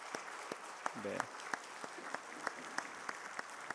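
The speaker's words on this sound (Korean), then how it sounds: "자리에 앉으실 때까지 박수로 격려해 드리시겠습니다." A church congregation applauding during a Wednesday service, rhythmic unison clapping heard faintly from a distance, with a brief spoken word over it.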